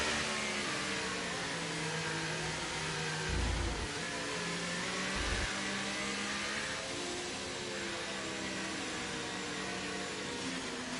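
An F1 23 race car engine drones steadily while running behind the safety car in Singapore, with a loud sustained whine, a few brief surges, and gear changes.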